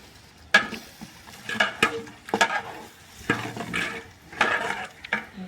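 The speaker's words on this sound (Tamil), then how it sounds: "இப்போ வாசத்துக்காக கொஞ்சோண்டு கொத்தமல்லி புதினா போட்டு இந்த வெங்காயம் தக்காளியோட வதக்கிக்கலாம்" Onion and tomato sautéing with coriander and mint in a pan, a steady sizzle broken by repeated close, loud scrapes and clanks of the stirring spoon against the pan.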